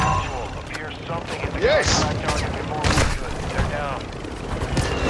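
Video game gunfire with bursts of sharp shots and rapid volleys crackling in short clusters, mixed with a player's excited voice talking over the action.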